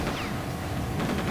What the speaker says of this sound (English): Oh, where am I being shot from?